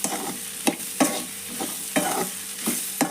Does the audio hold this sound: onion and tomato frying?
yes